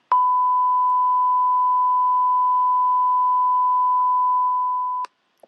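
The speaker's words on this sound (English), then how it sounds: "then you'll have a beep" A censor bleep made for a video sounds as a single steady pure tone lasting about five seconds, loud and alone, ending in a brief click.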